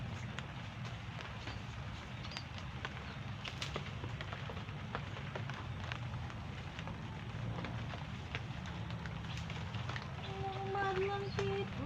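Steady rain falls on a rural backyard vegetable garden, a dense broadband hiss with scattered patter and drips running the whole time, with faint bird calls and a low background hum.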